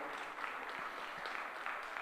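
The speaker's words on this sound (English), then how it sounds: "let's give our Charolais exhibitors a nice round of applause." Spectators at a youth fair beef breeding show clap for Charolais cattle exhibitors, a brief, fairly distant round of steady applause in a large space.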